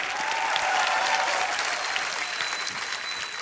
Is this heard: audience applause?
yes